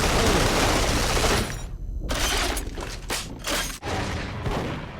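Dense, loud gunfire and shattering impacts in the first-person shooter Duke Nukem Forever, a continuous barrage at first that breaks into separate sharp bursts.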